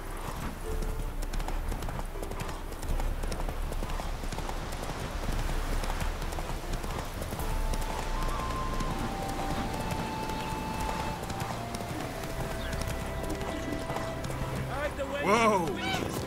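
Roach gallops in The Witcher 3: Wild Hunt, with a fast, continuous run of hoofbeats under game music and voices, and a sharp neigh near the end.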